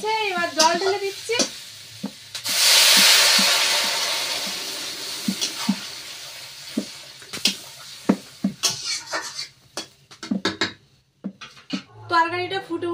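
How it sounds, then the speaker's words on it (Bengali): Water poured into a pan of sautéed potatoes for a pangas fish curry with tomato and eggplant, bursting into a loud, broad sizzle that fades over a few seconds, followed by stirring scrapes and clatter. "আলুটা আমার কষাই হয়ে গিয়েছে, এবার জল ঢেলে দিচ্ছি।"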